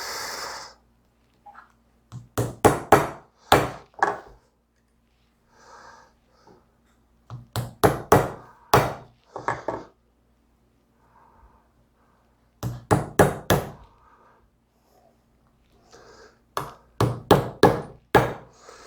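Series of sharp chopping strikes on a wooden chopping block, in bursts of four to six rapid hits separated by pauses with faint rustling, close and fairly loud with no talk.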